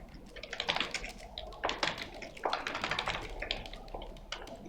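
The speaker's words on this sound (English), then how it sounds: "So I'm going to just speed up the typing so you don't get bored." Rapid typing on a computer keyboard plays back sped up, a dense run of crisp, irregular key clicks in bursts, close and fairly quiet, with no voices.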